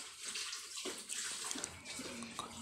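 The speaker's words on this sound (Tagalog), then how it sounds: "Lapit-lapit na ako matapos maghuhugas ng mga plato." Dishes and cooking utensils being washed with soap at a sink under running water, a steady close splashing and gurgling stream that continues for the whole stretch with no talk.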